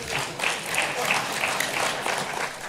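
Conference audience at a party national conference breaking into a short burst of applause, steady clapping at moderate loudness for a few seconds with faint voices mixed in.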